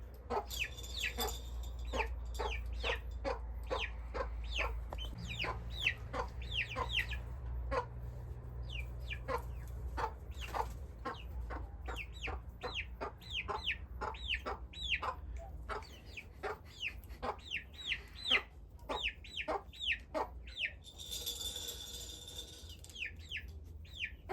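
A mother hen clucks repeatedly in a steady, rhythmic series of short, close calls while her three-week-old chicks are nearby, urging them onto the roost; brief high chirps flare near the end, and low background rumble persists throughout with no talking.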